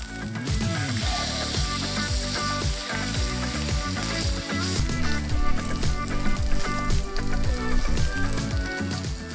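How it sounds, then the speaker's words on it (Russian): Ribeye steak fries in a pan with a dense, steady sizzle and crackle, close and loud throughout, with faint clinks and music-like tones underneath and no talking. "И жарим также 3 минуты."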